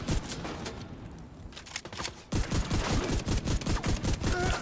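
Rapid gunfire bursts from The Division video game, a dense loud stretch of shots, a brief lull, then a steady rhythm of repeated automatic fire with a faint voice underneath.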